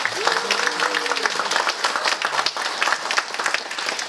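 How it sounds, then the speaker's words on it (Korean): Audience applause fills a Korean leadership academy lecture hall in Gwangju, with dense steady clapping throughout and a few faint voices beneath the crowd. "뜨거운 박수 한번 부탁드리겠습니다."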